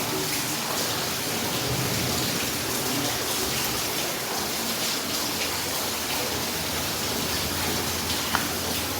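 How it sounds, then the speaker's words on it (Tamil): Heavy rain pours down in a dense, unbroken hiss during the rainy season, loud and constant throughout with no voices. "செம்ம மழை பெய்யுது."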